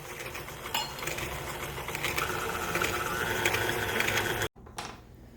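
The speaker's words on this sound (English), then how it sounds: "I'm going to cream together the 1 cup of granulated sugar with the ½ cup of butter." A close electric mixer whirs steadily while creaming granulated sugar and butter, a gritty mechanical drone with faint rattles that cuts out abruptly near the end and briefly restarts, with no speech.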